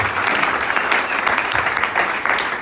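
A church congregation applauding loudly to acclaim the Lord after prayer, dense, even clapping from many hands that fills the room without pause.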